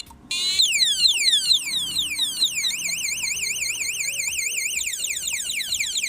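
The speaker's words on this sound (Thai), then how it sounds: "จะมีสัญญาณเตือนแบบนี้เลย" An electronic alarm sounds loudly, first with rapid repeated downward sweeps, then a continuous warbling siren tone that keeps going.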